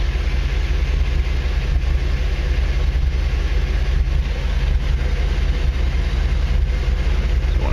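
A polished aluminum Mercedes wheel spins while sandpaper is held against it, producing a loud, unbroken roaring whir that stays even and dense from start to finish.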